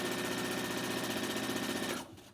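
A sewing machine stitches a curved seam in a layered fabric mask, running in a fast, even mechanical whir with rapid needle pulses, then stopping abruptly near the end.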